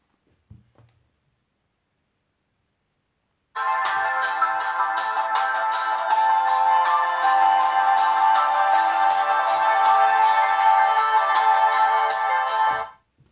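Chuwi Hi12 tablet speakers play a steady, bright tonal melody for about nine seconds, clear and alone after a quiet start, then stopping abruptly.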